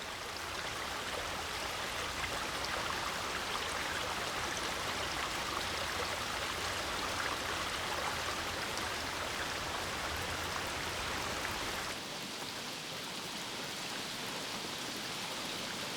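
Continuous rainfall in a forest, a dense steady hiss of drops on leaves that stays loud and even, then thins slightly near the end, with no voices.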